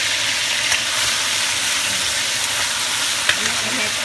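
Food sizzles in oil and is stirred during Lao cooking, with a steady, moderately loud frying hiss and an occasional faint clink from the pan.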